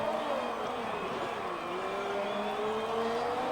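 F1 race car in a video game lapping the Mexican Grand Prix circuit, a steady loud engine drone with a pitch that dips and climbs through gear changes, heard continuously with commentary voice faintly mixed in.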